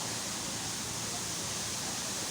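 Pulang Bato Falls in Malabon, Valencia, Negros Oriental, pours as a dense, steady broadband rush of falling water, even and continuous with no breaks, heard alone.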